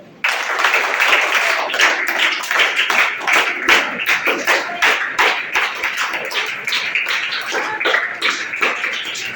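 A crowd applauds teachers at a school farewell ceremony, with rapid, dense clapping sustained at an even level for several seconds, close and lively.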